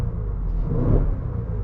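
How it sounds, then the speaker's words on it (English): A 2015 Mercedes ML63 AMG W166 SUV's engine and exhaust rumble deeply and swell briefly in a rev, heard from inside the car at a steady, loud level. "This thing sounds fantastic. I don't know if it has something done to the exhaust."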